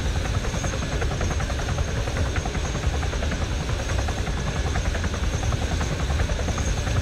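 Helicopter flying in ArmA III: a steady, loud rotor thrum with continuous buzzing engine noise that holds constant throughout, with no voices over it.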